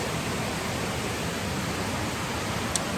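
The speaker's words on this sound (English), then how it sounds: "With a babbling brook." A babbling brook flows near a tent at a hiking campsite, a steady broadband rush of water without pause, fairly loud and close.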